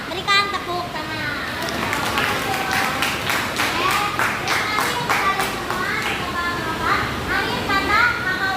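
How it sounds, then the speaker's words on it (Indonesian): Classroom of children clapping together after a student's closing remarks at a school guidance session, with a steady dense patter of hands and lively kids' voices chattering over it throughout. "Berikan tepuk tangan"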